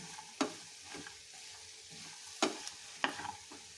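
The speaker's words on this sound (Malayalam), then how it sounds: "വെണ്ടയ്ക്ക ഇട്ട് കൊടുത്ത് നമുക്കിനി അത് ഒന്ന് ഇളക്കി കൊടുക്കാം" A spoon stirs chopped okra with onions in a hot pan for a Kerala-style thoran, giving a few distinct scraping strokes over a soft, continuous sizzle, close and fairly quiet.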